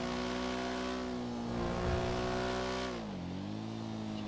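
Cars drive by on a road in the video game GTA V, with a steady engine drone whose pitch swells and then drops as a vehicle passes. The sound is fairly loud and continuous, with no talking.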